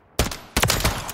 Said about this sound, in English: Next up, we have the ACR SPR, or designated marksman rifle.